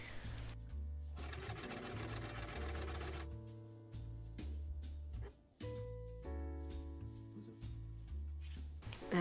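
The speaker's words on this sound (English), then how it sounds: "using that second fabric tile piece, I covered the bottom and just sewed along the entire edge of the tray" Sewing machine stitching fabric around the full edge of a collapsible dice tray, with steady mechanical whirring bursts that stop and restart several times, close and loud with no talking.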